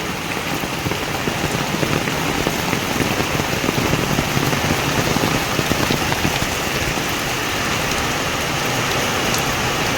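Steady rain pours down without a break, close and fairly loud, a dense wash of falling drops with no voices.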